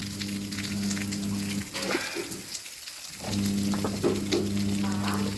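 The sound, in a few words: onion, garlic and ginger frying in oil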